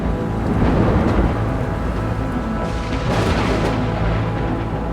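Stormy rain effect from a Lego animation of emergency plane landings: a steady, dense wash of rainfall with low rumbling thunder swells throughout, loud and continuous with no voices.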